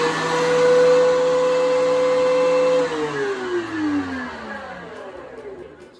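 A Dewalt 735 thickness planer whirs loudly at full speed with a steady motor tone, then shuts off and winds down, its pitch sliding lower as it coasts to a stop.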